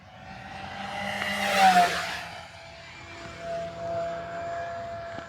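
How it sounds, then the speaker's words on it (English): FMS P-51 Miss America RC warbird, 1.1 m span, with an 80 amp ESC: the electric motor's braking produces a swelling, whooshing drone that peaks briefly near the middle, then fades to a steadier, fainter hum in open air. "You hear that braking? That braking is so weird on this 80 amp ESC."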